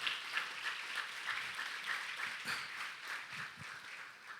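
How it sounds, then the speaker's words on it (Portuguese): A church congregation claps together in a sustained, fairly even wash of applause, moderately distant, with a few low knocks and shuffles scattered through it. "Vamos aplaudir ao Senhor."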